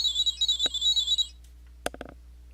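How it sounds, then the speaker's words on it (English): An electronic toy chirps a rapid, high warbling beep pattern for about a second, then falls quiet before a few sharp plastic clicks and rattles follow close to the microphone. "that sound effect you just heard, diddly diddly diddly diddly diddly diddly, is the exact same sound that you hear in the original"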